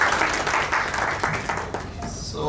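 Applause at an office gathering, a round of clapping from a group that starts strong and gradually thins out, with voices talking over the tail end.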